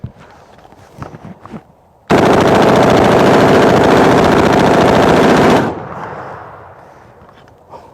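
An AR-15 rifle fires one long, continuous burst of rounds lasting about three and a half seconds, extremely loud and close, then the echo fades out.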